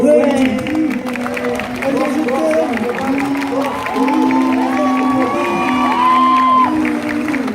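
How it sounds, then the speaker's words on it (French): A live audience at a Nantes Japan-culture convention cosplay contest applauds and cheers loudly to vote, a dense continuous roar of clapping with whoops and shouts, overlapping voices calling out throughout. "C'est donc à vous, public, que nous allons demander de voter à l'applaudimètre."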